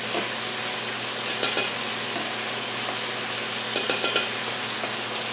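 Garlic sizzling in a hot skillet of chicken fajita pasta: a steady, loud frying hiss throughout, with a few brief clinks of a utensil stirring against the pan.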